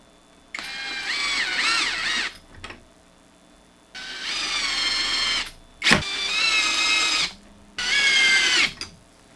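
A power drill whines in four short bursts, driving small 3/4-inch screws into plywood to mount caster wheels on a desk, each run rising and falling in pitch with brief pauses and a clack between.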